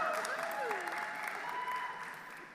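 An audience at a university convocation ceremony claps in a steady, sustained wash of applause, heard at moderate distance with some voices and cheering rising through it before it gradually fades.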